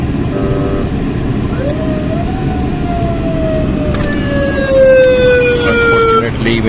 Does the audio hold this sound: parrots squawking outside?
no